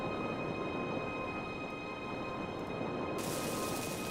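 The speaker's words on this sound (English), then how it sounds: "if we just go over to this ship and we weld in some plates" A welder tool in the Space Engineers video game fixes plates onto a ship, a constant dense grinding, hissing drone with steady tonal hum, unbroken and fairly loud the whole time.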